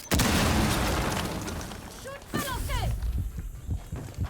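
A loud explosive charge detonation in the video game Rainbow Six Siege bursts at the start and rumbles away as it fades, followed by people talking in French over scattered thuds.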